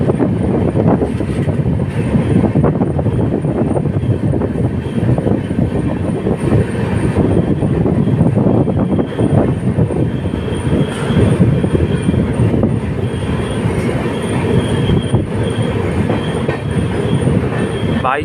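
The Saharsa Humsafar Express rolls along at speed, a loud, continuous rumble of wheels on track with rattling carriages and faint rhythmic clatter, heard from inside the train without talking.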